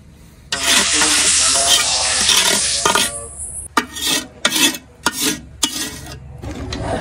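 Besan pinni mixture with mung, flaxseed and buttermilk is stirred in a pan, a loud continuous scraping rasp followed by several shorter rhythmic strokes close up.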